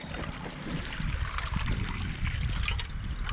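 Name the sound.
water being pumped over a frozen surface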